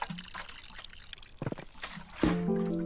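Water pours into a plant pot in the Botany Manor video game, a brief liquid trickle and splash that comes in near the end after softer handling sounds, with no voices over it.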